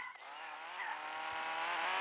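A car in a GTA-style video game skidding out of control, a loud sustained engine whine with tire squeal rising steadily over two seconds, with no talk.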